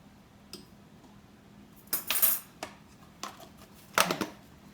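Spoon scooping ground coffee, fairly coarse grounds, for a French press: a few brief clinking, rustling scrapes and taps, quiet and close, separated by near silence.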